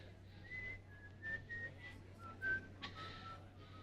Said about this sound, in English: I can't think if you're going to whistle.